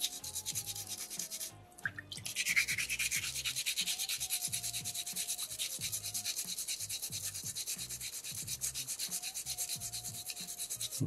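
Sandpaper rubbing steadily over a soapstone fish carving, a close rhythmic scratchy rasp of repeated strokes with one brief pause near the start.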